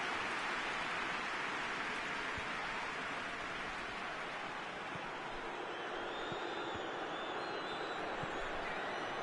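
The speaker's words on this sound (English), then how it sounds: "Rain starting to fall here." Steady broadband hiss of rain beginning to fall over a football match, a constant wash of noise with no distinct voices standing out, continuous and fairly loud throughout.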